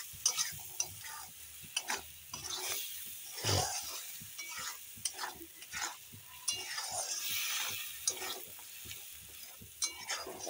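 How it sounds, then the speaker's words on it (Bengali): A spiced mixture with sugar stirred and fried in a pan: a soft continuous sizzle under repeated scraping strokes of a spoon against the pan, close and fairly quiet. "এখন ভালো করে নেড়ে দিই, মশলার সঙ্গেই কষিয়ে নিই।"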